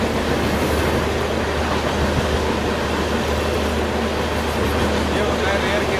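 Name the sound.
Tejas Rajdhani express train overtaking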